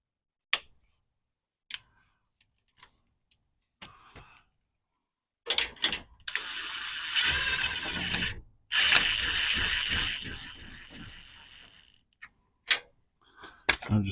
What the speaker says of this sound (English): I'm going to snug up the rear bolt on the sway bar.